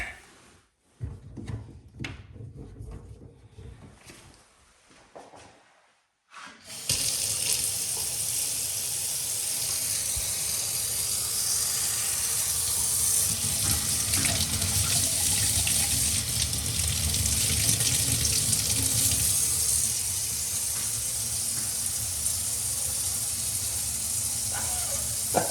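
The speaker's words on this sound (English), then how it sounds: "I just turned the cold water on." Cold water runs from a laundry room tap after a few seconds of quiet handling noises, then pours in a steady, loud hissing gush that continues to the end.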